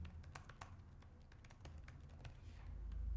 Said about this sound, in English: we just start to type something